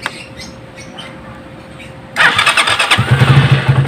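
A Rusi DL 150 motorcycle engine cranks and catches after a quiet stretch, then idles loud and close with a pulsing, rhythmic putter.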